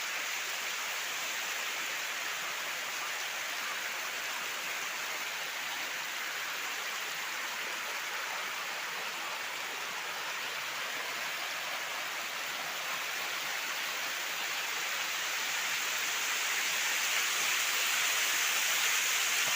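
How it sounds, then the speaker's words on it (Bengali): Water pours steadily down the lowest tier of Ruposhi waterfall on the Kamoldaho trail near Mirsharai, Chittagong, a dense, continuous broadband rush heard close up that swells slightly toward the end, with no voices. "গড়িয়ে পানি পড়ছে।"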